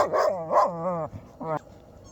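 Two large livestock guardian dogs give a few whining, yelping barks and whimpers up close, in quick bursts with a short pause between them.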